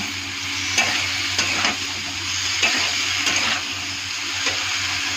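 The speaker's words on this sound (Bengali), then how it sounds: "এখন আলু বেগুনটা ছেড়ে দেবো, ভালো করে মিক্স করবো।" Potato and eggplant stir-fried and mixed in a pan, a close steady sizzle broken by several scraping strokes of a spatula, with no talk.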